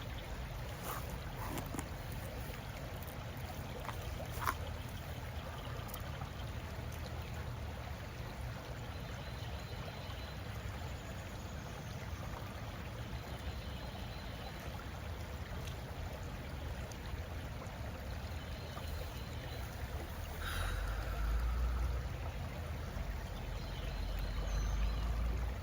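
Water swirls and laps gently around a person wading in it outdoors on a warm day, a soft, continuous wash with a brief, louder swell of sloshing near the end.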